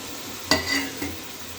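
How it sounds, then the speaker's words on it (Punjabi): A spoon stirs dry aloo methi, potatoes with dried fenugreek leaves, in a pan, giving two quick scraping strokes over a soft background sizzle. "ਹੁਣ ਅਸੀਂ ਇਹਨੂੰ ਵੀ ਹਿਲਾ ਲਾਂਗੇ ਚੰਗੀ ਤਰ੍ਹਾਂ"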